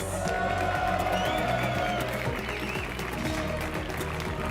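A big crowd gathered in Spanish sunshine at an Age of Empires gaming event cheers and whoops in a loud, continuous roar lasting the whole stretch, with some indistinct voices mixed in.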